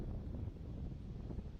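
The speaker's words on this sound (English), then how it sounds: "Andrew Fish, a sudden gust of wind," A sudden gust of wind sweeps over an outdoor disc golf course at a world championship event, a steady low rumbling roar of wind buffeting the microphone throughout, with no talk.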